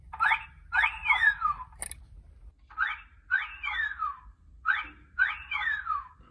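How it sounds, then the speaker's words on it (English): A novelty wolf-whistle horn on a car sounds three times, each a bright rising chirp followed by a long falling whistle, loud and close with brief pauses between. "It does the wolf whistle. That's the horn on this car."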